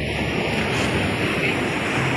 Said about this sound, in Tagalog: Ang lalaki ng alon, mga idol.